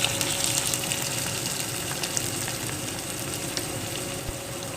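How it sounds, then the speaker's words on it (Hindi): Garlic paste fries with onions in a pan, giving a steady, dense sizzle with faint crackles and occasional light stirring. The sound is even, close and continuous, with no voices. "अब मैं इसमें ये लहसुन का पेस्ट डाल रही हूँ।"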